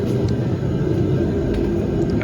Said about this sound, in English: Sorry about the heater, it's kind of loud and it's cold in here